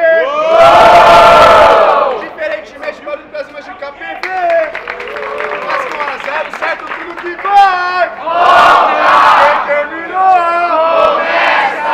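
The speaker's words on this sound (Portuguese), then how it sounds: "Barulho pra cima, Chibasque!" A large crowd at a rap battle in Itaquera roars and cheers loudly, with shouts, whistles and scattered clapping rising and falling in bursts, voices yelling throughout.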